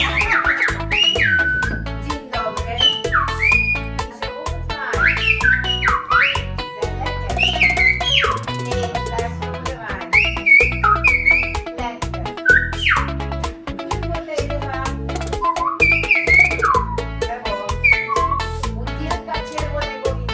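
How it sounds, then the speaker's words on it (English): Silbo Gomero whistled language demonstrated on La Gomera: sharp, pitch-gliding whistles in short phrases rise and fall over a continuous backdrop of music and crowd noise, fairly loud and close throughout. "we were treated to the traditional communication methods of those native to the island, which was called Silbo Gomera"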